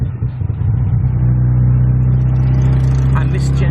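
Tuk tuk engine rumbling steadily during a ride through the streets of Chiang Mai, Thailand, a loud close drone with a sustained low hum that rises slightly as the vehicle moves, with voices mixed in early on.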